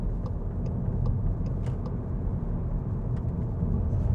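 A car drives at about 30 mph along Corporation Road in Newport during a driving test, its engine and road noise a steady low rumble throughout with faint ticking above.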